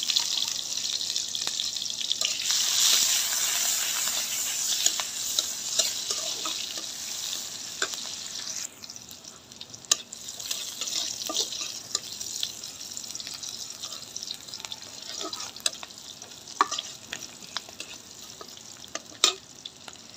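Onions and green chilies frying in hot oil in a wok while radish greens are being cooked, a steady loud sizzle with occasional stirring clatter, the hiss dipping slightly partway through and then continuing.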